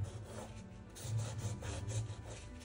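Paint is rubbed into a painting surface by hand, a quiet close-up scraping rub in uneven strokes that grows slightly louder after the first second, with no talking.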